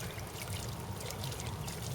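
Water from a ram pump, flowing at close to a gallon per minute, pours onto a boat's water wheel in Elgin, Texas; a close, continuous splashing stream with no talk.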